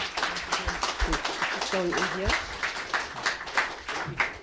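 Applause from a conference audience as a speaker walks on stage, moderate and steady clapping partly under a person talking nearby, with the room sound fairly close.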